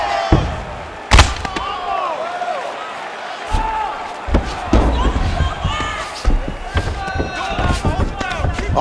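Repeated ground-and-pound punches in the UFC 4 video game, Derrick Lewis versus Brock Lesnar, land as scattered sharp thuds and slams, with crowd noise throughout and a commentator talking over it.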